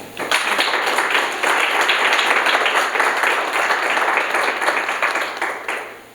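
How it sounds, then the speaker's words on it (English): Sustained audience applause welcoming a speaker at a 2024 social policy forum, a dense steady patter of many hands clapping close and loud for about six seconds before fading at the end. "Very warm welcome and applause."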